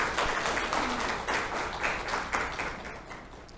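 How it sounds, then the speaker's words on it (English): Applause from a studio audience on a Ghanaian morning TV talk show, welcoming a guest: dense, steady clapping at moderate volume that runs throughout with slight swells. "please welcome him with a round of applause"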